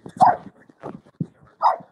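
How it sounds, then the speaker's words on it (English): Several dogs bark and yip near the microphone in a few short, loud bursts with brief gaps, with no one talking. "here's the dog. There's the dogs."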